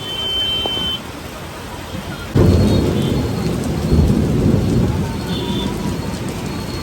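Heavy rain pours during a Kolkata flood, with a sudden loud surge of downpour and rumbling thunder rolling through; a steady roar of rain on surfaces continues throughout.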